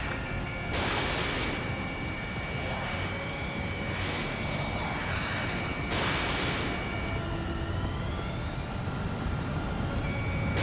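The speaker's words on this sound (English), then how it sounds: "The aircraft is icing up. I'm getting a warning." An aircraft icing warning alarm in the video game Ace Combat 7 sounds as a steady electronic tone over a continuous loud jet-engine roar, with a few swelling whooshes as the plane maneuvers.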